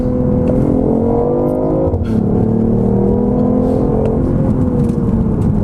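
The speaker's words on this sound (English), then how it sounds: "that downshift just sounds great" A BMW i8 hybrid sports car engine drones loudly and steadily from inside the cabin, its pitch dipping and rising again as it downshifts.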